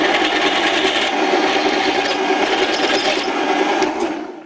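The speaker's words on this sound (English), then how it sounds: "I must say that this is drilling easier than I thought it would be." A 9.5mm drill bit bores into a piece of scrap metal, producing a continuous high grinding whine that holds steady and loud for several seconds and then tapers off at the end.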